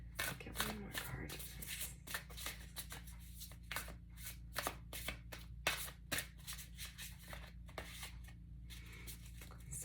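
A deck of cards being shuffled to draw one more card, with a quick run of crisp riffling and flicking bursts up close, fairly quiet, and a voice talking in the background.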